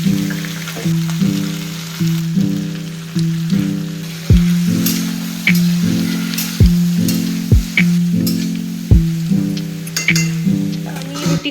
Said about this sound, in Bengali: এবার আমি একে ভেজে নেব। কড়াটা একদম গরম হয়ে গেছে